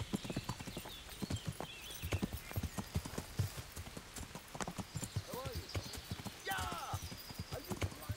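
Horse hooves clip-clop steadily and loudly at a walking pace in the video game Kingdom Come Deliverance, with occasional whinnies and snorts over the continuous rhythmic hoofbeats.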